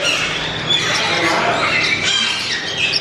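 Parrots at Parrot Mountain bird park in Pigeon Forge, Tennessee, squawking in a busy aviary: repeated shrill calls over a constant noisy background of other birds and people.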